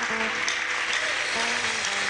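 A church congregation at an Apostolic Church service in Ghana claps as a dense, continuous wash of applause, with faint musical tones running beneath it.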